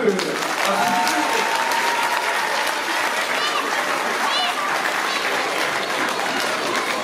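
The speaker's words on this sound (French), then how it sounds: "Applaudissez un peu." An audience applauds a short-film screening evening for the cast and musician, sustained dense clapping with a few cheers and scattered voices throughout, moderately loud and steady.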